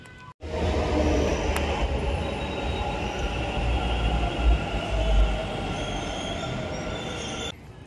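Inside a Bangalore metro train in motion, a loud, steady rumble and rattle of wheels on track continues throughout, with faint squealing tones overhead and no talk.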